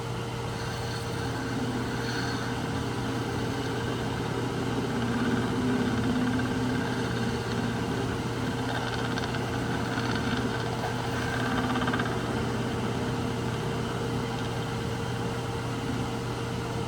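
Wood lathe spinning an apple-wood bowl at about 1000 RPM, a steady mechanical hum with a fixed tone and a faint whine, continuous and fairly close with no talking.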